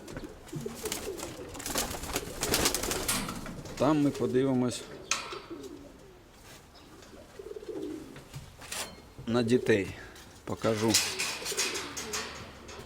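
Pigeons coo softly in a dovecote, low rolling calls recurring in short bouts beneath a man's close conversational speech, with some rustling and handling noise.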